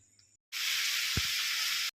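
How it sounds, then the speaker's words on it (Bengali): Potatoes frying in a pan make a steady, loud sizzle that starts abruptly and runs for over a second before cutting off, with one brief low thump midway. "তাহলে ভেজে নিই আলুটা"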